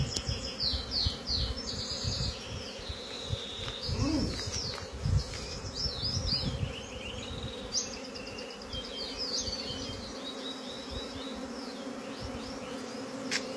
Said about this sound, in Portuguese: Olha quantas abelhas, pessoal, ó.